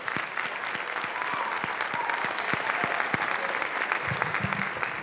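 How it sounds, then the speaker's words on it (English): Steady applause from an audience at a memorial band concert, a dense wash of many hands clapping at an even level throughout, with a few sharper individual claps standing out. "Go on, give them a round of applause."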